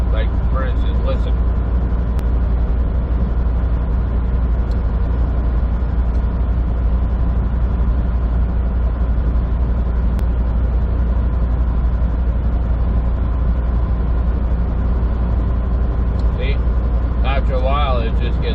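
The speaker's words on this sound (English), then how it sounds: "you just want to hear the sound of the engine of the truck" A truck engine droning steadily while the truck drives on a highway near Port Huron, Michigan, with heavy, constant low rumble and road noise throughout and a few faint chirps near the end.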